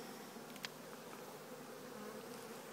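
A swarm of social honeybees buzzing outdoors near a house, heard as a faint, steady, distant hum with a couple of brief closer passes and a small knock at the end.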